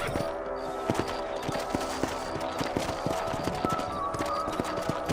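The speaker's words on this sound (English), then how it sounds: "Let's get back on the horses and see what else is going on." Horse hooves in the video game Red Dead Redemption clip-clop in a brisk, steady rhythm over a constant background rumble, with no break throughout.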